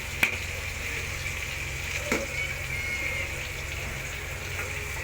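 Whole garam masala frying in hot ghee and butter in a pan, a steady close sizzle and hiss with a couple of faint clinks, and no talking.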